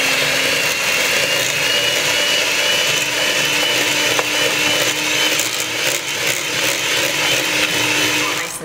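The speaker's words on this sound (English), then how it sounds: "So now we're going to mix it all together until nice and smooth." A kitchen mixer whirs steadily while blending cheesecake batter for mixed berry cheesecake bars, a loud, continuous motor drone that runs alone the whole time without pause.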